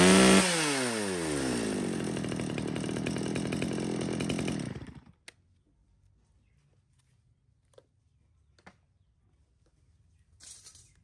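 A chainsaw, a used Japanese-market model cutting wood about 30 to 35 cm across, roars loud and close for about five seconds, then cuts off, leaving near silence broken by a few faint clicks.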